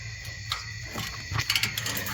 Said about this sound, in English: Looks like that's going to take a wrench.